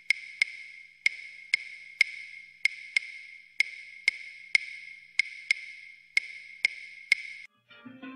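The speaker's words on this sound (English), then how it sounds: "This is the clave rhythm that you probably heard so much about" A salsa clave pattern played alone on a wooden-sounding percussion instrument: crisp, dry clicks grouped in repeating asymmetric phrases of two quick strikes and three spaced ones, close and clear, ending with a brief shuffle.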